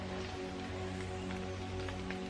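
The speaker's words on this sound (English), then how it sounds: "it has been raining out here in nature" Rain falls outdoors in nature, a faint, steady hiss of drops on surfaces with a low constant hum beneath and a few slightly louder patters.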